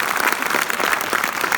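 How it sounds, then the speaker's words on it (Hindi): Loud, sustained applause from an audience at a live Hindi comedy show, dense clapping filling the whole moment without pause. "जोरदार तालियां बजाए।"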